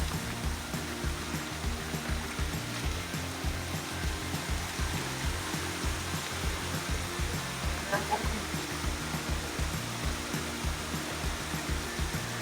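Twin Falls waterfall in Tanay, Rizal, a continuous rushing wash of falling water that stays steady and close, with some rhythmic low rumbling underneath.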